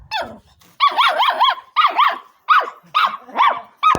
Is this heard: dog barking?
yes